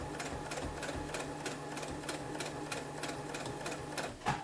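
A sewing machine runs steadily, stitching back over the same seam of fabric during a garment alteration, with a fast, even mechanical rhythm, close and moderately loud, and no talking.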